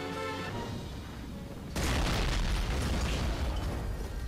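A barrel is shot and explodes in the video game Medal of Honor: Frontline, a sudden loud blast that sets off a dense, sustained rumbling roar after a quieter stretch of game sound.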